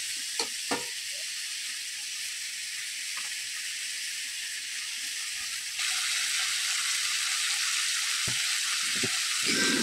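Pumpkin pieces fry and get stirred with spices in a pan, a steady bright sizzle with occasional scraping stirs, growing louder partway through.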